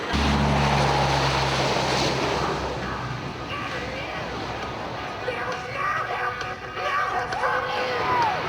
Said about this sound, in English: Lieutenant Worthington selects afterburners and rotates the aircraft to 40 degrees